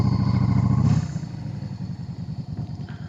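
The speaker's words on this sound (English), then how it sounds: "turning off of the engine" A vehicle engine rumbles loudly and steadily, then cuts off about a second in. A softer, rattling background continues afterward.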